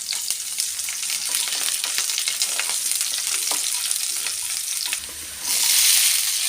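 Onion fries in oil with mustard seeds and curry leaves, a dense steady crackling sizzle with light stirring, close by, swelling into a louder hiss near the end, no talking.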